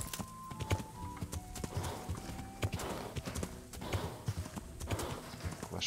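Horse hooves in Kingdom Come: Deliverance clop in a steady, uneven gait, with a whinny rising partway through. Tack and ambient game sounds sit underneath, moderately close and fairly quiet overall.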